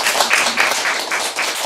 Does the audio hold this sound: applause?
yes